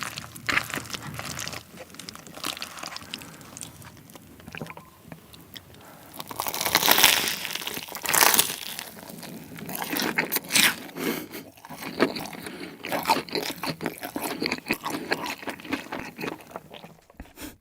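Crunchy bites of a Korean corn dog dipped in Bburing sauce, eaten close to the mic, with several crisp crackling chews and crunches spread across the stretch, fairly loud and without talk.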